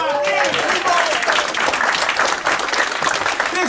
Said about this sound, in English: 35 years. Round of applause. 35 years.